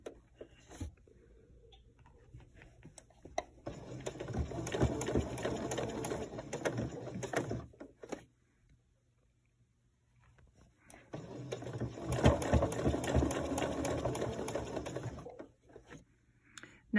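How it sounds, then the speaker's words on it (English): A sewing machine stitches a fabric seam in two steady, rapid bursts of several seconds each, separated by a quiet pause, close and clear. "as I'm sewing a seam, I do a little back stitch"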